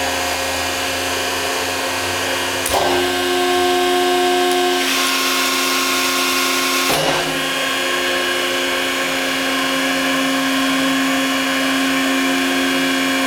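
A 170 ton down-acting hydraulic press cycles with a loud, steady hydraulic pump drone and tonal whine, with sharp clunks and a shift in pitch as it decompresses and returns fast to the top.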